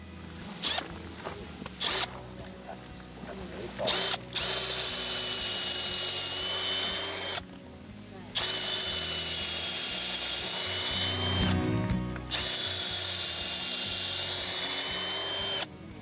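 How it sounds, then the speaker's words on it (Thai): A drill bores into the trunk of a Huang Hua Li (Vietnamese variety) tree on a farm, whirring loudly and steadily in long stretches broken by short pauses, with a grinding, rasping bite into the wood. "เจาะให้ดูเลย ว่าแก่นมันเป็นยังไง"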